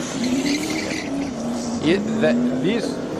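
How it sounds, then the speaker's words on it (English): A hillclimb race car with a 4-litre turbocharged Toyota engine drones at a steady pitch, with brief revs and a shift or two. It sounds moderately distant over a noisy background. "This has got a Toyota engine with turbo on it."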